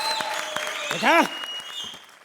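A comedy-show studio audience bursts into brief applause, clapping under and between a man's spoken lines before fading out.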